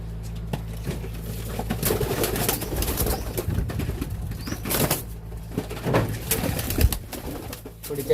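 Pigeons cooing and fluttering as birds are caught for cold treatment, soft repeated coos close by mixed with brief wing flaps and scuffling, several birds heard at once without talk.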